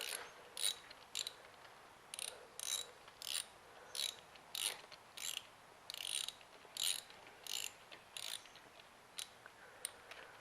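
A ratchet loosens spark plugs on a 2007 Kawasaki ZZR600 motorcycle, a series of about a dozen quick, close clicking bursts in an uneven rhythm, faint and alone against a quiet background.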